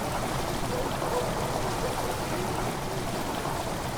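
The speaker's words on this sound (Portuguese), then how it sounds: "A água que entra na câmara faz um estranho som." Water pours steadily into a stone chamber in the horror game Amnesia: The Dark Descent, a constant rushing hiss with no breaks, even and fairly loud throughout.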